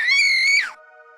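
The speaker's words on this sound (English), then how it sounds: "one of the classmates comes running into the cafeteria screaming" A single loud, high-pitched scream holds steady for about half a second, then drops sharply and cuts off, leaving a faint hum behind.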